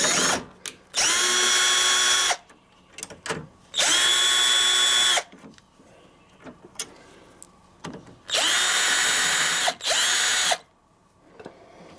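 A power tool drills out screws from the door of a 1985 Ferrari Mondial QV during an interior door release replacement: three loud whirring bursts with rising pitch, separated by quieter clicks and handling noise, close up, no talk.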